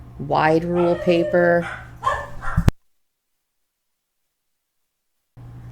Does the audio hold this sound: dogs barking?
yes